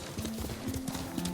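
Horse hooves clip-clop steadily as a mount is ridden in the samurai video game Ghost of Tsushima, a close, even rhythm of hoofbeats running under a low hum for the whole moment.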